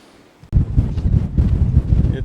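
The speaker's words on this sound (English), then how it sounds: "It's very windy." Strong wind buffeting a microphone at the Cape Spear lighthouse in Newfoundland, a sudden loud rush after a quiet start, gusting heavily and continuously.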